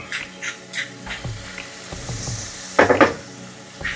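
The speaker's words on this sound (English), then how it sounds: "And we're gonna let these render down a little bit. And while these are cooking down" Meat renders in olive oil in a hot pan with a soft, steady sizzle close by, broken by a few stirring scrapes and a brief louder crackle near the end. No one speaks.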